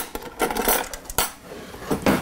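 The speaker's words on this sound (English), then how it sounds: "I'm gonna grab a spoon." Metal spoon grabbed from a kitchen drawer while making a blueberry raspberry parfait, a few sharp cutlery clinks and rattles close by, with no talking.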